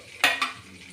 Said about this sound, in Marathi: असेच एक एक दोन दोन करून सगळे पीस तळून घेऊ।